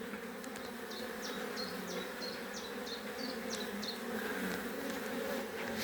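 Honeybees buzz around a busy twelve-frame hive as they bring in pollen, a steady close droning hum with a few short chirping calls repeating over it.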